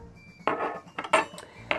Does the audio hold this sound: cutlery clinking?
yes